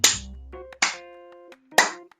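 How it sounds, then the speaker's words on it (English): A slow clap: three sharp, ringing hand claps spaced nearly a second apart, close and moderately loud in an otherwise quiet room. "we're going to slow clap that one out of the room for a moment"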